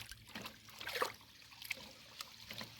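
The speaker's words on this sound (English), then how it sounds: "so we can hear that water gurgling." Water trickling and gurgling through an opened break in a beaver dam, faint, uneven burbles and small splashes that rise and fall over a quiet outdoor background.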